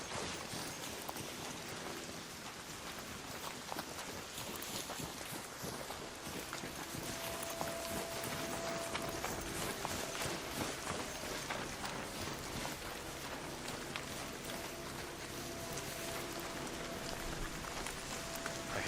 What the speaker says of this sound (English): this rain's kind of annoying